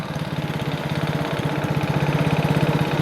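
A quad bike engine idles close by with a steady, even putter of rapid pulses that stay level throughout and strengthen slightly near the end.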